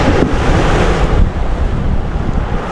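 Strong wind buffets the microphone over the steady roar of waves at sea during an overnight fishing trip, loud and continuous with no voices.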